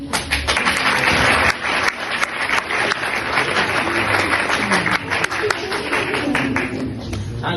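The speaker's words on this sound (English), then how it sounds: "Ladies and gentlemen, let us give an applause." Theatre audience applauding at a university staging of Hamlet, a dense, loud wash of many hands clapping that carries on steadily, with a few sharper claps standing out.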